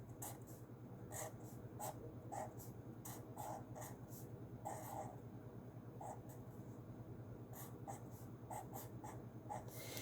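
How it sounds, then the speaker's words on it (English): A pen or marker writes on paper, making a faint, close series of short scratchy strokes at an irregular rhythm over a low steady hum. "I'm writing upside down"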